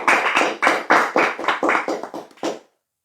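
A crowd at an Islamic religious gathering claps in rhythmic unison, about nine evenly spaced, loud claps that stop abruptly, leaving silence.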